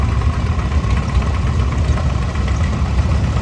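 A John Deere VR tractor engine running at a historical engine parade, a steady low rumbling idle with a throbbing, knocking pulse, close and continuous with no talk over it.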